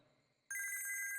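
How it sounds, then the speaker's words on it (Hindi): A mobile phone ringtone starts abruptly in a film scene, a loud bright repeating electronic melody that fills the second half after a quiet opening. "उसी का फोन है। हाँ? फोन उठा,"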